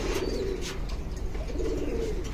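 Silver pigeons coo steadily in a loft, several low throaty calls overlapping across the whole stretch over a constant room hum, with no voices.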